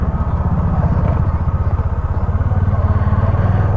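A motorcycle engine runs steadily and loud up close, a continuous low rumbling drone with a fast pulsing throb and no pauses, on a ride around Bangalore.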